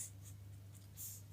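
Marker or chalk scratching on a board during a Hindi maths lesson on coin ratios, heard as a few soft, faint strokes spread across a short quiet stretch with a steady low hum underneath.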